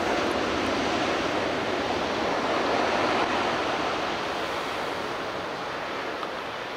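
Continuous wash of surf breaking on an ocean beach at Loch Sport, a broad steady roar of waves heard from a lookout on a calm day, loud and unbroken throughout.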